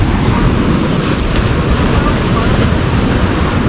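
Sea waves rolling in open water, a loud continuous roar of surf mixed with heavy wind buffeting the microphone, steady throughout with no clear breaks.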